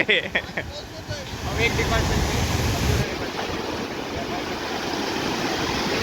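Sea surf rolling onto the Konkan shore, a continuous rushing wash of waves with gusty wind buffeting the microphone, loud and close, with a few brief sounds early on.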